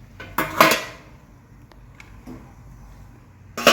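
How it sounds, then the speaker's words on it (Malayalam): Metal clatters against a neer dosa pan as a lid is set down, with a loud knock near the start and another at the end, and quiet stillness between them. "ഇനി മൂടി വെക്കാം"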